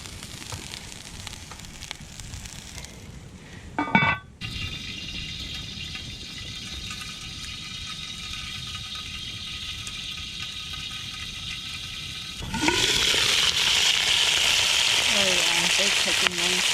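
Peppers frying in olive oil in a cast-iron pan over a campfire at a backcountry camp during a snowstorm: a steady, close hiss of sizzling after a brief clatter, swelling louder and brighter near the end as more food goes in.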